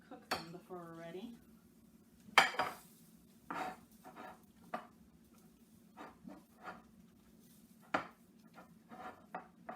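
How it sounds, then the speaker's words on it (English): Eggs being mixed into flour in a bowl for cornbread, heard as scattered clinks and scrapes of a utensil against the bowl. A brief voice is heard early on. "I'm going to mix the eggs into the flour a little bit first"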